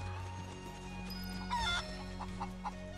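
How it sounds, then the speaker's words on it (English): Chicken clucking in the video game Final Fantasy 7 Rebirth, a few short clucks over steady game background ambience, with no speech. "There's the chicken."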